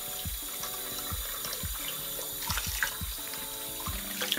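Cool water running steadily from a tap into a wash basin as it fills for washing a synthetic wig, with a continuous close splashing stream and some soft knocks in the background.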